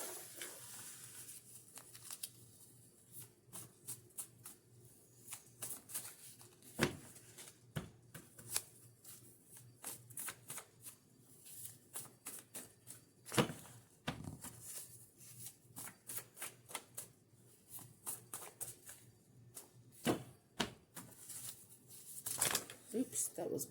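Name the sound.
index cards being pulled out and shuffled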